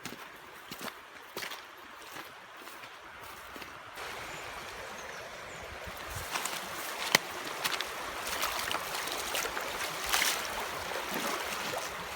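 Splashing and sloshing of someone wading on foot across a woodland river in river shoes, irregular watery steps and swishes over a steady flowing-water background, close by, with no talk.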